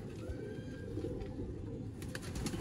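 Flying pigeons, young racing birds, coo softly among general rustling and low background noise, with faint wing flutters near the end.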